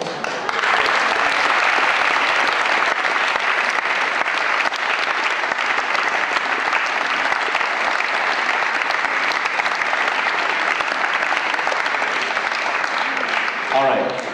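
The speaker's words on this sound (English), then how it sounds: "if you show them your love and keep applauding, they just might come back for another one" Audience at a dance show applauding continuously, a broad, even roar of many hands clapping that holds steady and fairly loud throughout.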